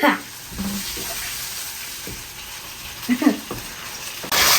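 Garlic and a mixed sauce stir-frying in oil in a wok, with a soft continuous sizzle and scattered spatula scrapes and clatters that grow louder near the end.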